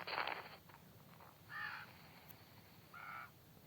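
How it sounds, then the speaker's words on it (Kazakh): Crows caw in a Minecraft-style video game: three separate raspy bursts, moderately faint, spaced about a second apart over a quiet background, with no talking. "Бұда тек қарғалар ғана бар сияқты ғой."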